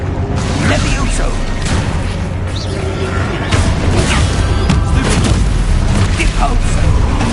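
Spell explosions from the Hogwarts Legacy video game, Confringo and Expulso blasts, boom repeatedly in a loud, dense, continuous barrage of crashes and whooshes with no letup.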